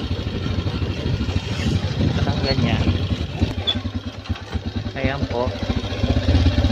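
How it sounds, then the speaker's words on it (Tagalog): A motorcycle turning around on a steep mountain road, its engine idling and revving unevenly nearby while people talk over it. "Ikot naman ngayon yung motor."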